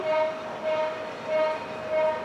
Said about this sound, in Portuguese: ignorem a buzina